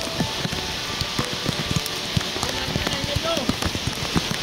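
Heavy rain pours down during flooding in Silang, Cavite, a dense, steady hiss with sharp drop impacts that runs throughout.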